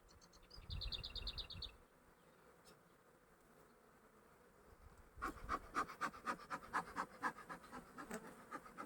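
Busy buzzing of honey bees close by during a hive inspection, rising into loud, pulsing drones after a quieter stretch, with some scratchy handling noise early on.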